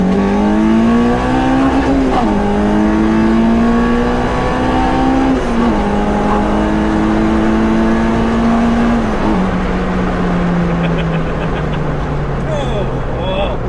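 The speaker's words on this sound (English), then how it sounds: "Okay, 40 mile an hour second gear." A K-swapped Honda Civic coupe's engine revs hard under heavy acceleration in second gear from 40 mph, its pitch climbing steadily through a long pull, then easing back, with a voice talking over it.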